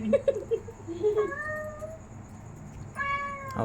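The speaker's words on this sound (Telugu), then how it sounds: "గోపాలరావు పిల్లి గోపాలరావు పేట పిల్లి" A cat meows twice, drawn-out and fairly close, with a quieter voice and some background noise between the calls.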